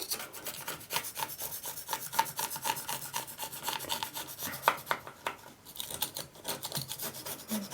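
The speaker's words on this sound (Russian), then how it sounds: "Попробуем шпателем." Thin flexible spatula scraping tile joint residue at a bathtub-to-tile seam, a rapid series of dry rasping strokes in an uneven rhythm, close and fairly loud, with no talking.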